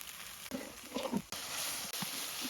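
Spices, including cumin powder, green chili, turmeric, chili powder and salt, frying in oil in a pan give a steady hissing sizzle with soft bubbling pops, cutting out briefly twice before resuming at the same level.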